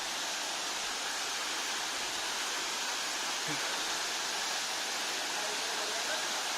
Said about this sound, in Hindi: डबल झरना